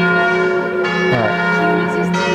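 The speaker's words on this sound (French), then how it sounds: "Le carillon." Carillon church bells ringing in central Paris, a sustained loud peal of layered overlapping tones with new strikes landing over the continuing resonance.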